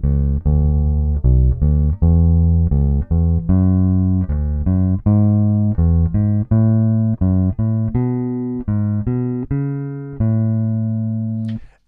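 Plucked guitar notes step through a scale sequence one after another at an even pace, each ringing briefly, with no talking.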